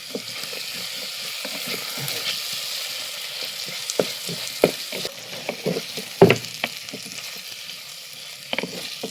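Tomatoes go into a pan of browned onions and fry with a soft, uneven sizzle. Clattering stirs and scrapes come and go, and two sharper utensil knocks stand out, all fairly close with no talk.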